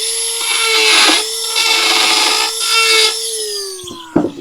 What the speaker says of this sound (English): I could probably Dremel that down a bit.